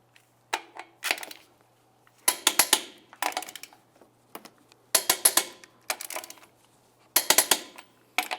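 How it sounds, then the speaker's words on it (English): Ratcheting clicks from a torque wrench tightening lug nuts on a 1998-2002 Lincoln Navigator wheel, in short bursts of rapid clicks with quiet pauses between them. "Torque each of your lug nuts to 150 foot-pounds in a crisscross manner."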